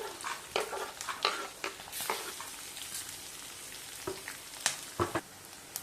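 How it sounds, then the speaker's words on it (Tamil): Chopped onion frying in a pan at the start of a chicken stew, a soft crackling sizzle punctuated by irregular stirring scrapes and clicks, close but quiet, with no voices. "வெங்காயம் நல்லா வதங்கிடுச்சு."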